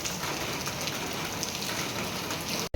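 Steady rain falls on a surface, a soft continuous hiss that cuts off abruptly at the end.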